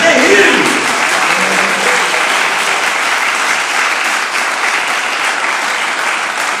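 A church congregation claps loudly and continuously, with a voice briefly audible at the very start before the applause takes over as a steady, thick wash of hands.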